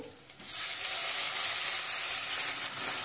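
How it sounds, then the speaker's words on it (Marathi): Buttermilk poured into a hot pan for Gujarati kadhi hits the oil with a sudden loud sizzle that settles into a steady, close hiss lasting several seconds. "आता आपण हे ताक टाकून घेऊ"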